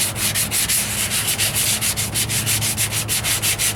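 Bondo body filler on the driver's side wheel arch of a 1998 Ford Ranger is sanded by hand in quick, even back-and-forth strokes, a close, rhythmic rasping that continues steadily with no talk.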